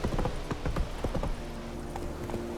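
Roach, a horse in The Witcher 3, trotting with a quick run of close hoof clip-clops that fade after about a second into quieter ambient game sound and a distant murmur.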